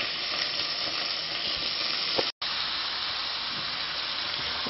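Chicken pieces hit hot oil in a kadai for kadai chicken, giving a steady, loud close sizzle of frying with one brief break partway through and no talking.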